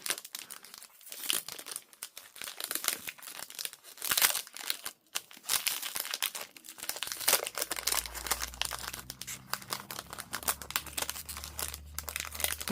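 Packaging for a tag book and journal cards is torn open and handled, giving close, continuous crinkling and tearing of plastic and paper, with a low hum coming in later.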